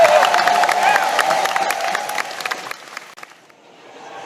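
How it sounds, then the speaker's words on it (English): A convention audience at BronyCon 2019 in Baltimore applauds and cheers after a talent show, loud at first with whoops, then gradually thinning into scattered claps as the noise fades. "Can you give them a round of applause?"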